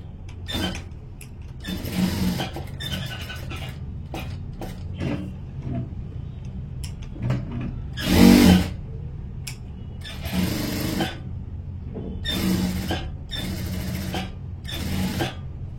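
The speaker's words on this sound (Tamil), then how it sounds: "ஃபர்ஸ்ட் இங்க இருந்து நான் தைச்சிட்டு வரேன்." A sewing machine stitches a blouse in intermittent runs of fast mechanical whirring and clatter, with short bursts and pauses between seams, close up.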